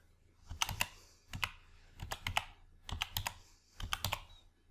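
Quiet computer keyboard typing comes in short clustered bursts of quick clicks, with brief pauses between groups, close and alone.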